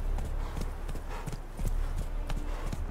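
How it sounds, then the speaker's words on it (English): Horse hooves in The Witcher 3 video game clip-clopping at a slow walk, a steady run of close, heavy thuds over a low rumble, with no voices heard. "Let's go slow a little bit, let our horse catch its breath."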